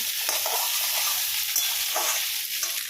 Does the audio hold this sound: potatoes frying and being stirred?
yes